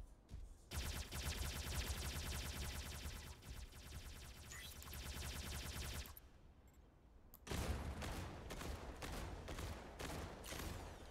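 Video game gunfire from heavily equipped opponents: long dense stretches of continuous rapid automatic fire, loud and sustained, broken by a brief lull and then a burst of evenly spaced heavy shots.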